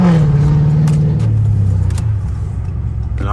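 A Dodge Charger SRT idles and revs up close in snowy conditions, its deep exhaust rumble holding steady before dropping in pitch and swelling again near the end, with no talk over it.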